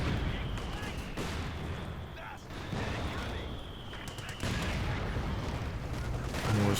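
Mortar fire in the video game Company of Heroes 2 during a 4v4 tanks versus artillery match, a dense rumbling battle bed of thuds and booms under a commentator's voice.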